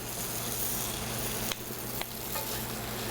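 Potatoes fry in a hot pan with a continuous, even sizzle. Two brief scraping knocks cut in partway through as they are stirred.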